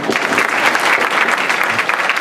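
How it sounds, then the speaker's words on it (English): Audience applause fills a school board of education meeting, steady dense clapping throughout from a room full of people, fairly loud and continuous with no break. "You can clap for that, go ahead."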